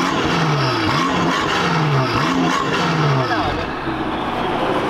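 A BMW F90 M5 engine and exhaust, just started, rev in several rising and falling bursts close by, then settle into a rumbling idle.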